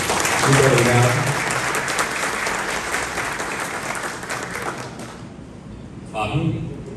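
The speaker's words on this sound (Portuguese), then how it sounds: "Todos, salva de palmas para os homenageados." A crowd applauds the honorees at a Brazilian commendation ceremony, broad clapping that fills most of the span before thinning out, with a brief voice rising near the end.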